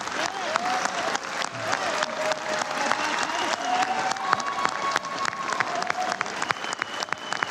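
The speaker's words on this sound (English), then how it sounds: "they're all clapping in unison" Members in a legislative chamber applaud together, a broad crowd of clapping with sharp individual claps standing out, a faint murmur and occasional voices underneath, steady and sustained.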